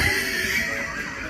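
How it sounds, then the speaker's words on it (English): A horse whinnies in a single drawn-out, wavering neigh, carried over a steady noisy background with no talk. "There's a horse?"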